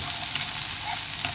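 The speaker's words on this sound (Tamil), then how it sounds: "இப்போ ஆனியன் நல்லா ரோஸ்ட் ஆகணும்" Onion fries in oil in a pan, giving a dense, even sizzle that stays loud and close without pause.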